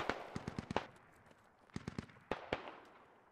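Mortar rounds land in the military shooter Squad, heard as faint, distant sharp cracks in quick clusters of several impacts, separated by short lulls over a soft background hiss.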